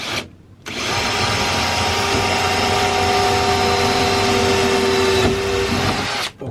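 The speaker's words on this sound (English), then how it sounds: "Right, I'll drill this one next." A power drill bores a hole through the single-skin roof of a Fiat Ducato van conversion, a loud continuous whine after a brief start, held steady for several seconds before cutting off.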